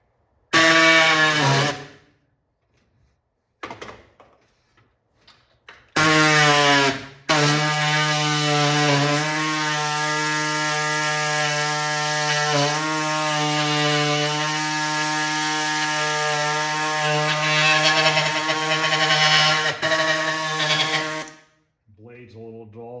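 Power saw cutting a wood panel for a Bubbles arcade cabinet control panel, a loud steady whining cut of about fourteen seconds after two brief starts, its blade dull, then stopping.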